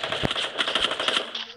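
Rapid automatic gunfire in the battle royale game Free Fire, a dense burst of quick repeated shots at close range that runs almost the whole time and tails off at the end.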